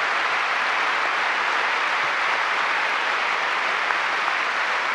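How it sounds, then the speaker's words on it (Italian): Warm, sustained applause from a large audience at a centenary event honouring Don Giussani, a dense, steady wash of clapping that fills the whole stretch at an even level with no talking. "vorrei che ci unissimo in un nuovo caloroso applauso"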